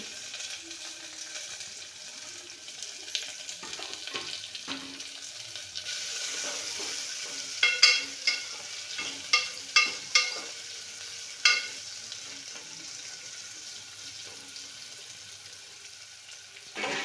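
Peppercorns, onions and green chilies fry in a pan, a soft steady sizzle with several sharp crackles and spatters in the middle stretch and stirring noises throughout.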